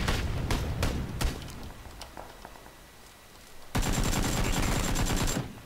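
Gunfire in a shooter video game: several sharp, separate shots ring out first, then a quieter stretch follows before a loud, rapid automatic burst of gunfire runs for nearly two seconds.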